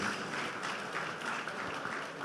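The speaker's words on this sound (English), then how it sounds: "I think we need a louder round of applause in this case" Audience applause at a 25th anniversary celebration dinner in Abuja, Nigeria: steady, dense clapping from a crowd held at an even level, with a sharper burst right at the end.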